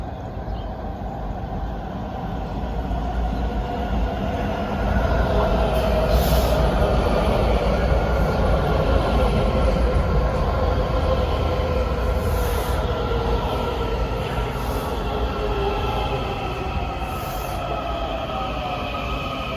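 A Kawasaki-built Washington Metro Red Line train pulls in toward Shady Grove, a steady loud rumble of wheels and motors with faint squeals and whining tones rising over the roll, continuous and close throughout.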